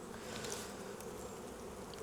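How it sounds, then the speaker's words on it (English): Honey bees buzz steadily around a hive, a dense soft drone of many wings with occasional nearer individual flyers passing, with no other sounds. "the bottom box is where all of the flying bees hang out"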